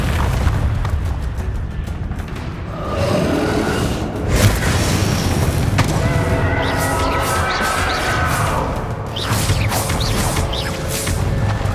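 A Bombarda explosion spell in Hogwarts Legacy goes off in a loud, heavy boom, followed by crashing debris and whooshing bursts during busy spell-casting combat.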